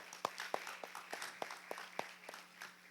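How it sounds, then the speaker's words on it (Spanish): A small audience clapping to welcome a group to the front of a talk, faint and sparse, with distinct individual claps in a loose, steady rhythm over a low hum. "Vamos a recibirlo con un fuerte aplauso"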